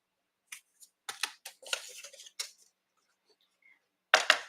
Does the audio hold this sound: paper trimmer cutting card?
yes